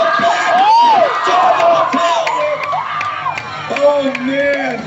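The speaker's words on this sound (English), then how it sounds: "You guys better cheer him on." A crowd cheers, whoops and yells loudly and steadily at a freestyle bicycle stunt show in Arizona, with children's shouts and an announcer's voice heard over the sustained roar.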